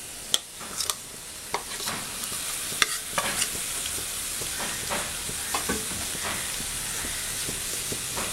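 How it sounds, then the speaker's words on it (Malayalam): Cooked cowpeas being stirred into a frying dish, soft continuous sizzle and hiss beneath repeated scraping and clinking strokes of a spoon against the pan, close and steady with no voices. "ഇനി ഇതെല്ലാം കൂടെ നന്നായിട്ട് ഇളക്കി കൊടുക്കാം."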